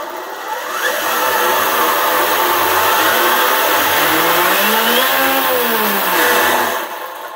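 A Team Associated SR7 RC car with a 22-tooth pinion on its electric motor whines loudly and steadily for about six seconds, its pitch rising and falling as it speeds up and slows, with no talk over it.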